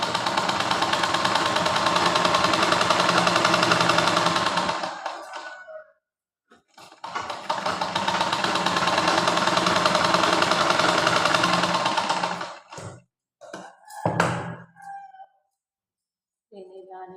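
A sewing machine stitches a blouse sleeve lining in two rapid, steady runs of about five seconds each, separated by a pause, followed by a few short bursts and clicks.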